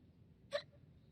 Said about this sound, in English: There's the hiccups again.